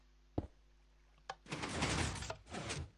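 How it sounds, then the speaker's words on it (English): A hidden stone door slides shut in a Minecraft-style build, two short knocks followed by a long, loud grinding rumble of stone blocks moving, then a second grinding burst, with no talking. "Our door is now shut."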